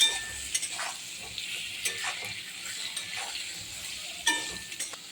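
Potatoes, soybean chunks and chopped tomato stirred in a pan, quiet frying hiss broken by repeated spoon scrapes and clinks against the metal, close and without talk.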